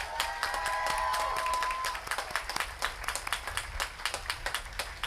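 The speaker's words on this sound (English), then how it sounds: "let's give them a round of applause" Graduation ceremony audience at Grier School breaks into sustained applause, dense clapping at first that thins into scattered claps toward the end, heard at a distance in a large hall.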